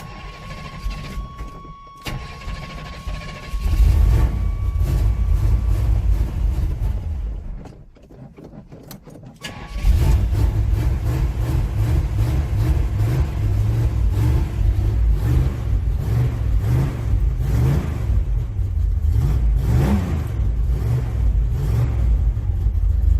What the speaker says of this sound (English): hopefully it'll fire right up and pump some fuel up there